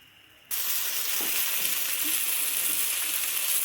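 Methi paratha with butter on a hot pan breaks into a sudden loud sizzle that holds steady and close, with faint tapping underneath and no voices.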